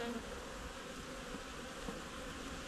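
Honey bees crawling and buzzing inside a hive box, a faint, steady, continuous hum close by with no other sounds.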